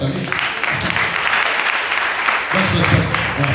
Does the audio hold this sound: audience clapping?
yes